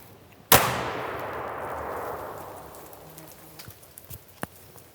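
A shotgun fires a dragon's breath round at a shield in an outdoor forest setting: a single sharp, loud blast, then a long hissing, crackling sizzle of burning pellets that slowly fades, with faint pops and ticks afterward.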